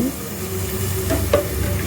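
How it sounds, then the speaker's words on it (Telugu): Curry sizzles in a pan on a gas stove with a steady frying hiss, while a spoon scrapes and stirs in a few distinct strokes. "గ్యాస్ వెలిగిచ్చేసాను కూర వండేయాలండి"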